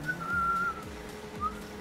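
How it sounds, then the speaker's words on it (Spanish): A person whistles a few short, high, clear notes in two bursts, with a low engine-like hum underneath. "Mira, puedo silbar y todo."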